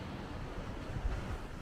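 Wind buffets a microphone on a rocky coastal path in Majorca, a low rumbling gusty roar with surf-like surges that swell briefly near the end.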